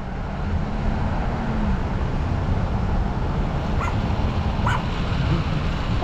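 A puppy riding along on an afternoon car commute gives two short, high yips or whimpers over a constant rumble of road and engine noise.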